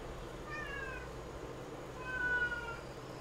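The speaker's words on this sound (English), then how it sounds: "Why are you being a whiny kitty?" A cat gives two drawn-out, whiny meows about a second and a half apart, soft and slightly distant in a quiet room.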